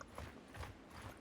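Horse hooves clip-clop in Mount and Blade Bannerlord, a few muffled, evenly spaced thuds over a busy game ambience, fairly faint and with no voices.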